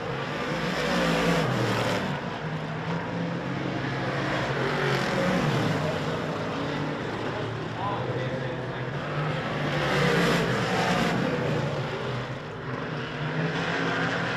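Big block modified race cars run a hot lap session at a speedway, their engines roaring in a steady, dense drone that swells and fades slightly as they pass, with no clear talk over it.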